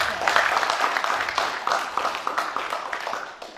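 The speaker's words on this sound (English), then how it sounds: "Can we clap hands for Prof?" Audience applause for a professor at a book launch in Masvingo, a dense patter of many hands clapping at moderate distance, swelling and easing in uneven waves for several seconds.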